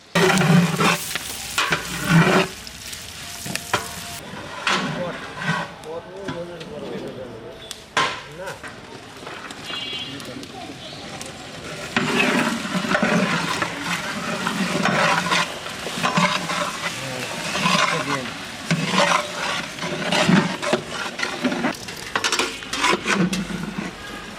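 Winter vegetable khichuri cooking in a pot on a stove at an outdoor team picnic, with sizzling and stirring, clinks of utensils against the pot, and voices now and then.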